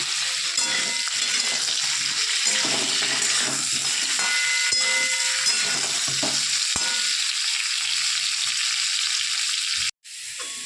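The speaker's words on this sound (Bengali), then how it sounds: "তো আমি এঁচোড়গুলো এই তেলের মধ্যে একটু ভেজে নেব" Young jackfruit pieces fry in hot oil in a wok with a loud, steady sizzle, broken by a few soft stirring clicks and a brief drop near the end.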